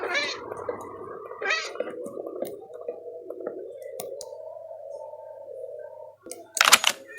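Minecraft cat, a game mob, gives a couple of short synthetic meows near the start, then a steady tonal hum runs under them and ends in a brief sharp burst of clicking noise.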